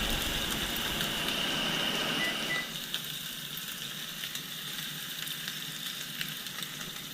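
Ribeye steak searing in a hot pan, a close steady sizzle that drops to a softer crackle partway through, with small pops scattered throughout.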